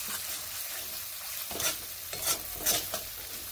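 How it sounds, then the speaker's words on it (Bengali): Spice paste fries in a pan for a drumstick, potato and bori curry, a quiet steady sizzle that gives way to three or four distinct scraping stirs of a spatula in the second half. "বেশ ভালো করে মশলাটিকে এইভাবে কষিয়ে নিচ্ছি"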